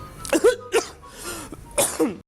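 A few rough, close coughs in quick succession, with short gaps between the bursts.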